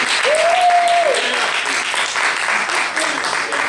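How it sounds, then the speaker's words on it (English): Audience applause at a comic convention toy panel, a full steady roar of clapping from a crowd filling the room, with a brief vocal whoop near the start. "can I get an applause for those of you who know what Marvel Legends are?"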